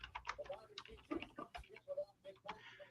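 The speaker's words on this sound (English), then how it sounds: "I'm going to type his name in here before I forget to do that." Name being typed on a computer keyboard, a quick run of irregular key clicks close by, mixed with faint background sounds and some murmured speech.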